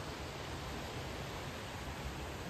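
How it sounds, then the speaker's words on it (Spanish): The Las Brisas waterfall in Cuetzalan is heard from a distance as a faint, steady rushing hiss, broad and unchanging throughout with no voices. "Allá al fondo está una cascada"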